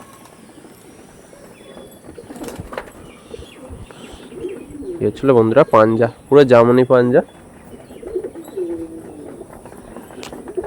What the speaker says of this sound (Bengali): দেখুন একদম ছোট্ট পায়রা